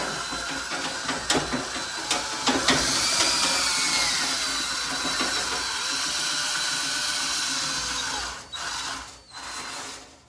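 A vacuum cleaner sucks dryer lint and dust from a dryer and its lint pipe, a steady, loud broadband roar with rattling clicks early on and brief dips near the end.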